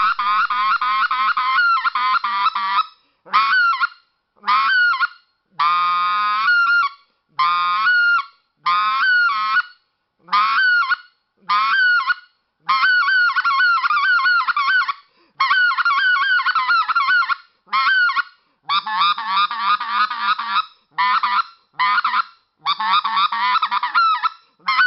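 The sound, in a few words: game call imitating scratch, cluck and yodel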